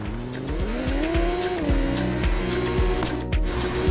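A racing motorbike in the TT Isle of Man video game revs hard while accelerating out of a corner, its engine note steady and loud with rising pitch and no talking.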